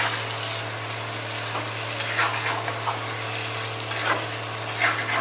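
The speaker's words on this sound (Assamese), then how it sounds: "খুব হালকা হাতেৰে মছলাখিনি এনেধৰণে তল ওপৰ কৰি দিম কচুখিনিৰ লগত" Masala and taro stems are gently turned in a hot pan over low gas, giving a steady close sizzle with soft scraping stirs now and then and no voices.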